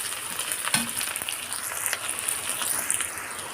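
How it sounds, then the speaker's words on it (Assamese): Onions and chillies frying in hot oil while cooking pork with pumpkin, a steady close sizzle and crackle with occasional spits, no talk. "এয়া পিঁয়াজ জলকীয়া এইখিনি ভালদৰে মই এতিয়া ভাজি ল'ম।"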